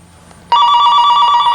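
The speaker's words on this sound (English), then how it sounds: "This is the second time the phones were going off." A landline telephone suddenly starts ringing with a loud, steady electronic tone after a quiet moment, continuing to the end during a home smoke detector system test.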